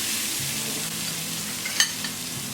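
Grated coconut goes into onions frying in a pan, and a continuous soft sizzle is broken by a brief stir or clink near the end.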